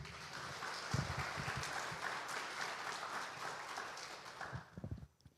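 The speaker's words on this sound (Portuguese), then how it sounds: "Você pode aplaudir Jesus por isso?" A church congregation applauds in a continuous dense wash of clapping lasting several seconds, fading out abruptly at the end.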